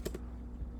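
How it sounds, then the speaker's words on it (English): Brief quiet computer keyboard typing, a couple of soft close key clicks at the start and another at the end with a faint hum between. "Then to actually do a syscall, we have to type the word syscall."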